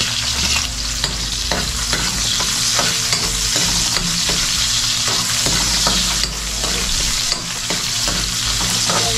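Garlic frying hard in a pan makes a loud, dense, continuous sizzle up close, with frequent small crackles and stirring knocks throughout.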